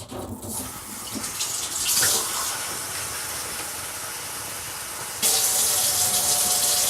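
Water is poured in a steady hissing stream into dumpling dough for chicken and dumplings, a continuous close splashing flow that grows a little louder toward the end.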